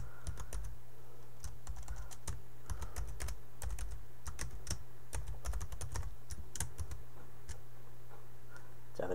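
Someone types text on a computer keyboard while working in Flash, with close, irregular bursts of key clicks over a low, constant background hum.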